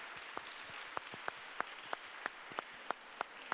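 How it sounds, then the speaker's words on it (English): Audience applause after a session at a cultural talk event, a faint, distant wash of clapping with a few sharper individual claps standing out at regular intervals. "A big round of applause for Patrick and Claudia."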